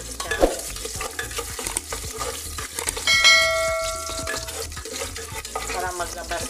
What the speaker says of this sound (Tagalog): lalagay natin ang ating ginger, onion, garlic. Bagya lang natin yan siyang isasangkot siya